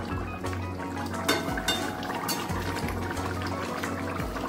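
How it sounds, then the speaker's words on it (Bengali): Rohu fish curry with onion bubbles steadily in a pan, a continuous low simmering burble with occasional faint clinks, close and fairly loud. "শুধু 2 মিনিট ফুটিয়ে নিলেই হয়ে যাবে"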